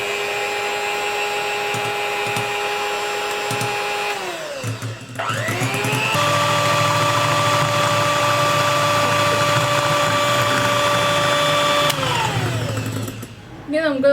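An electric hand mixer whirs steadily while sunflower oil is blended into chocolate sponge cake batter, its motor pitch dipping briefly mid-way before resuming a loud, continuous drone that cuts off near the end.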